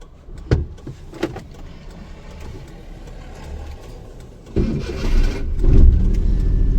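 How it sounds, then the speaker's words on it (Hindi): A car engine is started on a hilly mountain road during a driving lesson: a few brief clicks and whirs, then the engine catches with a louder, rumbling idle that swells toward the end. "करो गाड़ी स्टार्ट।"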